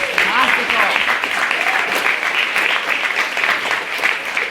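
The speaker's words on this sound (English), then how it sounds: "So another round of applause for that" A debate audience applauds three maiden speakers, steady dense clapping from a large crowd that stays strong and even throughout, with some chatter mixed in.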